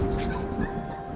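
A little dog in the video game Neva gives soft whimpering yips, heard close over a steady ambient tone.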